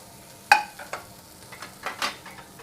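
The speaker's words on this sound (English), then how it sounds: "And we are going to stir fry this" Broccoli stir-fries in avocado oil in a carbon steel pan, with a sharp initial clank followed by several quick rhythmic scrapes and tosses over a soft sizzle, close and fairly loud.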